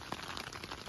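Sleet or hail comes down during a storm, caught on a phone: a dense, constant pattering rush with small crisp impacts scattered through it and no voices.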